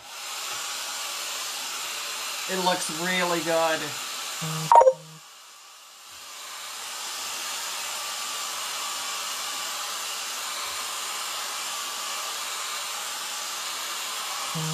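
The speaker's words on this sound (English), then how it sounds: "And I'm going to just hit it with the blow dryer." Blow dryer running on a craft or baking project: a steady, moderate airy whoosh that starts after a brief spoken comment and a click, then holds evenly for about ten seconds alone.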